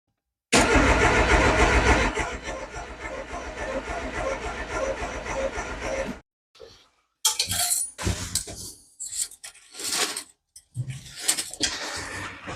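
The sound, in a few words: car engine starting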